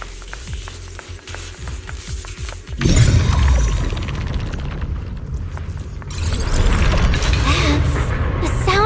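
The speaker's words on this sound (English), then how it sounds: "That's the sound of machinery." Machinery in the game Zenless Zone Zero booms into life with a heavy impact and keeps up a loud, dense mechanical roar that surges again partway through, with no talk.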